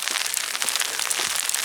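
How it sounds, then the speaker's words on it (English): Heavy freezing rain falls steadily on a winter day, a dense, even hiss of rain on surfaces that stays constant and moderately loud through the short stretch with no talking. "And we got some heavy freezing rain now."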